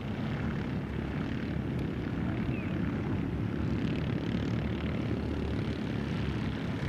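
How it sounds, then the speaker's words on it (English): Off-road race karts (R&R Steel JR2 class) racing on a dirt track, a steady, loud engine drone held throughout with no breaks, several machines blending into one continuous buzzing roar. "Connor Berry doing a great job at keeping everybody else in his class at bay in this R&R Steel JR2 Karts"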